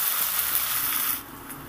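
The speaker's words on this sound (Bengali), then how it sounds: "লঙ্কা আর পেঁয়াজটাকে সুন্দর করে ভাজতে হবে" Chilli and onion frying in a pan for a Bengali rohu fish curry with okra, giving a steady, close hiss and sizzle that eases slightly near the end, with no talk.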